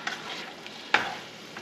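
Frozen carrots, onion and pepper sizzling in a hot pan as they are stirred, a steady frying hiss broken by a sharp scrape of the utensil.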